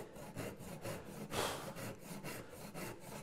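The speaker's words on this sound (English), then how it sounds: "you can run a tenon saw down that wall like this" A tenon saw cuts down a wooden wall in a door-making joint, producing a rhythmic rasping back-and-forth stroke about five times per second, close and fairly quiet, with one stronger push partway through.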